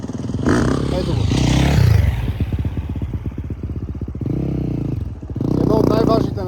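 Motorcycle engine revving and labouring during a wheelie on the rear wheel, rising and falling throttle with clattering mechanical sounds, fairly close, mixed with voices.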